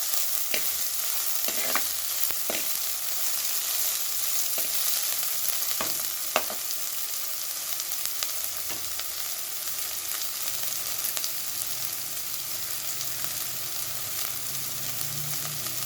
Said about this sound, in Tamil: நல்லா வறுக்க நல்லா ப்ரௌன் மாதிரி ப்ரௌன் கலர் வர வரைக்கும் வதக்கணும்